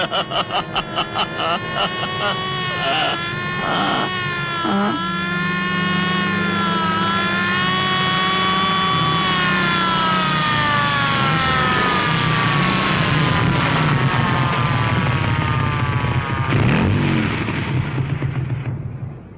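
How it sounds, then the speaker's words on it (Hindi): A loud siren wails close by, its pitch sweeping up and down in long continuous cycles that fill the whole stretch. "और ये सायरन है, ये कर रही है पुलिस हवा से बातें।"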